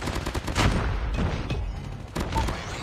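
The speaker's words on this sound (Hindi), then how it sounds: "बॉम्ब बॉम्बारी चल रही है" Dense, continuous bombardment and gunfire in a large online shooter battle, a loud wash of overlapping blasts and rapid shots with several sharper bursts standing out throughout.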